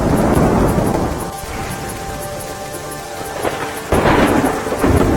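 Heavy monsoon rain pours steadily over Godhra in Gujarat near the swollen Meshri river, with deep rumbling thunder rolling underneath and a sharper crack near the end. The noise is loud, dense and continuous, with no voices.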